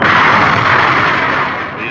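A launch escape rocket fires to pull a spacecraft capsule off its booster, a loud, sustained roaring blast with no pause, holding steady and easing slightly toward the end.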